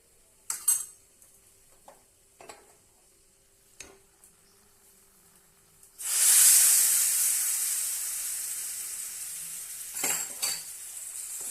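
Roasted semolina and coconut stirred together in a pan for mango burfi: a few sharp spoon clinks against the metal, then a loud steady hiss and sizzle that slowly fades under more scraping.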